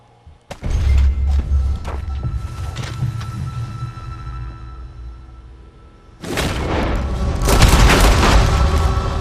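Gunfire in Red Dead Redemption 2: a burst of deep booming shots and thuds opens and then tails off into a rumbling decay, followed by a second, louder stretch of dense, rolling gunfire.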